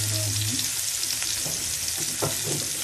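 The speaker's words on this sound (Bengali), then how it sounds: "কড়াইটা গরম হয়ে গেছে, এর ভিতরে পেঁয়াজ রসুন কুচি আগে থেকে কাটা ছিল" Finely chopped onion and garlic dropped into a hot kadai fry with a loud, unbroken hissing sizzle, close up, with a couple of faint stirring knocks.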